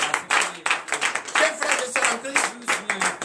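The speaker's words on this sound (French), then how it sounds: "Donnez l'acclamation au Seigneur Jésus." A church congregation claps during a morning prayer service, a run of rhythmic group claps in regular bursts with voices heard among them.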